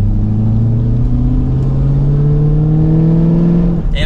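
A 2023 Chevrolet Camaro Convertible 2SS with a stage one kit accelerating hard, its V8 engine and exhaust roaring loud and close as the pitch climbs steadily through a gear before a brief dip at the end.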